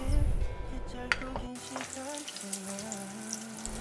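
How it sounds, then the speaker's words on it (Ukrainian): Pork fat sizzling and crackling in a pan over medium heat, a steady frying hiss with a brief clatter of utensils near the middle. "Смажимо сало"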